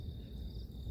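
Small insects chirping at night around a winter campsite, a steady high thin drone holding across a brief moment, faint and far off over low background rumble.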